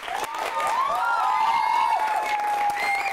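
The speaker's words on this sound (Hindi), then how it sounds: "इस कव्वाली के लिए क्या आपकी तरफ से कैसी तालियां आनी चाहिए।" At a New Year special, a crowd applauds and cheers after a qawwali by Aslam Sabri, continuous clapping that stays loud throughout while a sustained, wavering tone rings above it.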